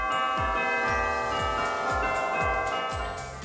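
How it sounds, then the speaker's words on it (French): Christmas bells ringing in a bright, sustained jingle with rich overlapping tones and a steady pulsing rhythm of low strikes underneath, loud and close throughout with no voices. "le son des cloches"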